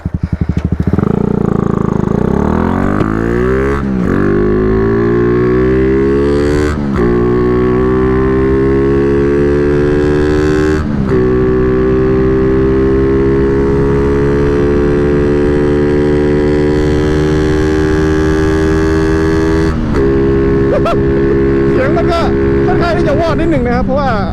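A vehicle engine with a remapped ECU tuned to run rich revs up hard and holds at high revs for a long stretch, with a few brief throttle blips. The sound is loud, close and continuous.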